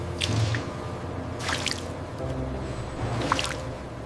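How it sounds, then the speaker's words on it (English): Warm vanilla glaze pours in a steady shower over donuts moving along a factory line, a continuous wet, dripping wash with soft squishy splashes and a few rising swells. "Donuts travel directly through a shower of warm vanilla glaze."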